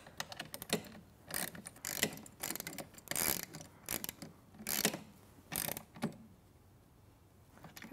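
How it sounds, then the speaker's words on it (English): A 7/16 socket ratchet tightens nylock nuts, giving short clicking bursts at an uneven rhythm, close and moderately loud with quiet gaps between. "I just need my 7/16 socket. I'm going to give that a little tighten."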